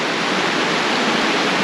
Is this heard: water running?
yes